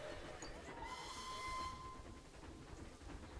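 A train pulling into a station in the Planet Zoo video game, with a hissing rush of steam, a brief high whistle tone and rumbling rail noise, moderately loud and steady.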